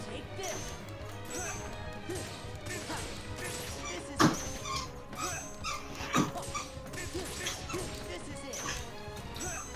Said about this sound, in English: It's a squeaky puppy.